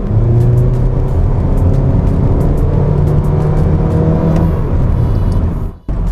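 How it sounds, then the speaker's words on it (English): A 2019 Honda Civic with a CVT is floored, its engine droning at a steady, gruff, loud pitch that holds roughly constant rather than climbing through gears, with a brief drop-off near the end. "you can hear that the engine goes pretty gruff"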